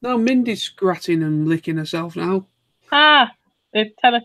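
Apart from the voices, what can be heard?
No distinct noise like a dog, phone or traffic.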